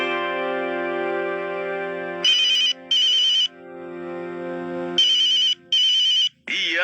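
A telephone ringtone plays in repeated bright electronic bursts, two rings then a pause and two more, loud over a sustained synthesized tone in a household setting.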